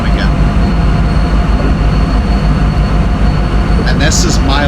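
Santa Fe Express train in a Sonoran Desert speed-test run in a train simulator, a loud continuous rumble and roar of rolling at speed with someone talking over it.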